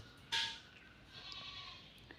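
A goat lets out a single short bleat that starts sharply, then fades into a faint, thin background hum, all quiet and somewhat distant.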